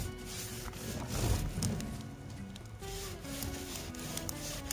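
Wire brush scraping back and forth across a hot barbecue grill grate, burning off old crusted grease, a rough rubbing scrub in uneven strokes, close and fairly loud, with no voices.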